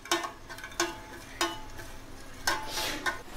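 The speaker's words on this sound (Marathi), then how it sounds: "आता दूध घातल्याबरोबर जरा ही आपण ढवळूया आणि गॅस मीडियम करूया." A spoon stirs freshly poured milk into ginger tea in a pot on a gas stove at medium flame, giving close, sharp scraping clinks at uneven intervals with a faint simmering hiss between them.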